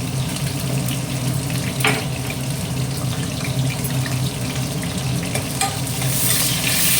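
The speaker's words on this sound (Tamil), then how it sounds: "சின்ன வெங்காயம் கொஞ்சம் நேரம் வதங்கட்டும்" Small onions sautéing in a pan for a Tamil-style fish curry give a steady close sizzle with stirring scrapes and a few brief clinks throughout, with no talking.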